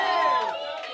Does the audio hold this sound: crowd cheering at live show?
yes